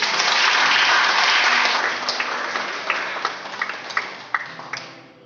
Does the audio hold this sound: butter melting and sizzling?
no